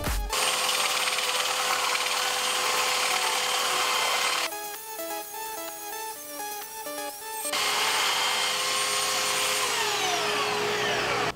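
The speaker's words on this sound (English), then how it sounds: "I'm going to do that with the belt sander." A belt sander rounds and sands the corners of a wooden navy shadow box, a loud, steady high whine that runs close for several seconds, dips into a quieter rattling passage with tonal ringing, then returns at full roar.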